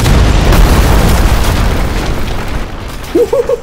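A demolition-site explosion roars as a long, loud, close rumbling boom that slowly fades over several seconds, then a voice briefly whoops near the end.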